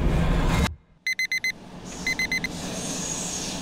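An alarm clock beeps aboard a night train: after rumbling carriage noise and a brief hush come two bursts of four sharp, evenly spaced electronic beeps, the second softer, followed by steady train rumble.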